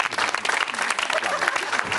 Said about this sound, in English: But on that note, give him a round of applause.